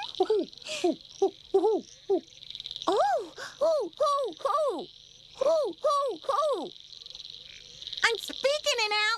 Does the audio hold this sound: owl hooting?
yes